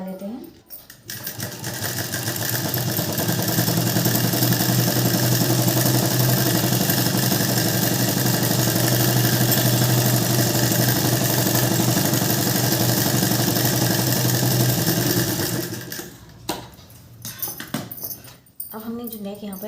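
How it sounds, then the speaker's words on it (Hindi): An electric sewing machine runs steadily for about fifteen seconds, stitching the lower seam of a size-34 blouse with a loud continuous whir, then slows and stops into quieter handling sounds. "तो पहले हम नीचे से सिलाई लगा लेते हैं।"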